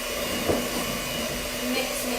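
Electric mixer whirring steadily at medium speed through vegan peanut butter and jelly lamington batter, a continuous motor hum with a faint bump near the start.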